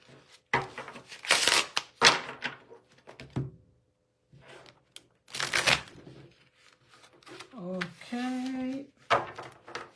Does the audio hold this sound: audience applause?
no